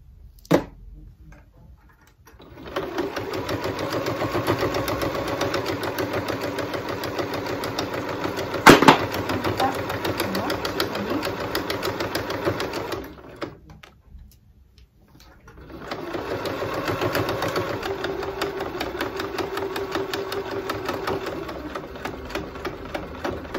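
A sewing machine runs over existing topstitching on fabric for a scissors holder, two long continuous stitching runs separated by a brief pause, steady and close with no talk.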